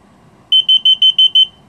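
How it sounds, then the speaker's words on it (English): A quick series of six bright electronic beeps, evenly spaced and loud, from a Tesla Model 3 powered front-trunk hood controller, after a brief moment of near silence with a faint hum. "Hold it down until you hear the beep."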